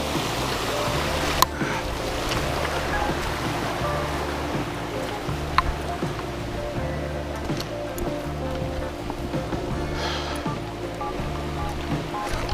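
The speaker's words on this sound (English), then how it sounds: "Oh, cool little waterfall here." Small waterfall on a river in late winter, a steady rushing wash of water with occasional splashes and knocks, moderately loud and continuous.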